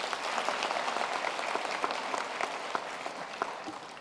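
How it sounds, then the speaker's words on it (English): Steady applause from an audience at a university graduation ceremony, a dense wash of clapping with individual claps standing out, sustained and even for the whole stretch. "May we please give him another round of applause"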